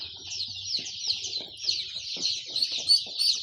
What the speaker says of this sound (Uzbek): Jo'jalarimiz Andijon qora jo'jalar 10 kunlik bo'ldi